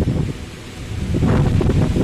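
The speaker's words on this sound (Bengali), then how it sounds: "প্রচণ্ড পরিমাণে হাওয়া বইছে, বৃষ্টি হচ্ছে" Strong wind gusts roar steadily through a residential quarter on a rainy day, a broad rushing noise that swells louder in the second half; the rain itself is not distinct beneath the wind.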